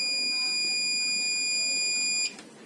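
A multimeter in continuity mode sounds a steady high-pitched electronic buzzer tone while testing an inductor coil, holding continuously for about two seconds before cutting off abruptly.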